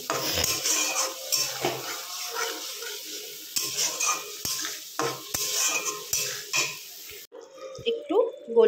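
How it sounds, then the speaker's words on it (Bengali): Whisked yogurt being stirred into a spiced curry in a pot: repeated scraping and clinking of a spoon against metal, with a light sizzle underneath, at close range. "দইটা দিয়ে আবার নেড়ে চেড়ে নেব।"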